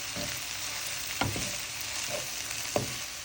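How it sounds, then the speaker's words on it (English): Sliced karela (bitter gourd) frying in a pan with salt, red chilies and turmeric, a steady close sizzle broken by a few soft clanks and scrapes from stirring. "I'm going to mix the Karelas in this mixture until everything is cooked."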